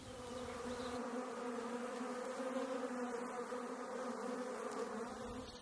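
A honeybee swarm hangs in a cluster with scout bees dancing on its surface, producing a steady, dense buzzing hum that stays constant and fairly close throughout, with no voices.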